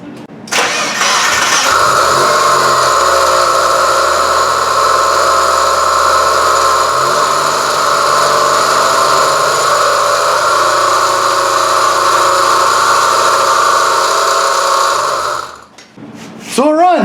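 A Mazda Miata engine cranks and catches, then runs at a steady, loud idle for about fifteen seconds with a constant buzzing drone before cutting off near the end.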